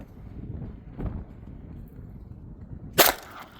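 .22 Long Rifle round fired once at a refrigerant jug outdoors, a single sharp crack near the end of a quiet stretch with faint background rustle.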